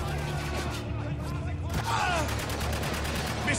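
Dense, rapid gunfire in the shooter game Spec Ops The Line, with bursts of automatic fire layered over steady game background sounds throughout.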